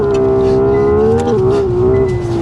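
A 2026 Hyundai Ioniq 6 N puts out a loud, buzzy synthesized engine note that holds one rev level, dipping slightly before settling back.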